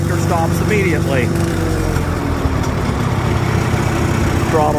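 An antique tractor engine runs in a steady, loud low rumble that holds throughout as the machine pulls away across a field, with a voice briefly audible near the start.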